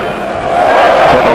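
Cricket crowd at a T20 match in New Zealand roaring and cheering in a brief swelling burst, loud and dense, with no clear separate claps.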